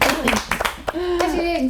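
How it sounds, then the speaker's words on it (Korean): A small studio group claps for the crew, brisk close claps at the start that thin out as a voice talks over them. "사실 스태프들한테 우리 박수."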